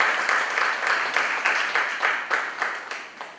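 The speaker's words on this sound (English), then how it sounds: "Can we give him a round of applause once more?" A university business symposium audience applauds a discussant, a steady burst of hand clapping from a sizeable crowd that fades out toward the end.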